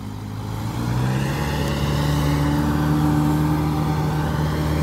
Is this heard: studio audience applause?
no